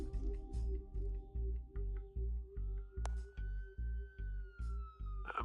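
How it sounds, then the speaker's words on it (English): Police car sirens in the Batman Telltale video game, a steady wailing tone over a loud, rhythmic pulsing game score with regular low thuds, continuing throughout at moderate distance. "There are quite a few police cars convening on your location."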